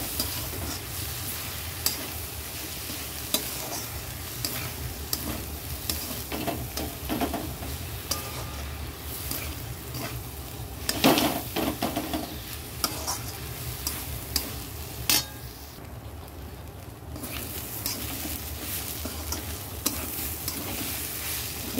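Gobindobhog rice is stirred and fried in a pan, a continuous sizzle with repeated scraping and clinking strokes of the spoon, close and steady throughout.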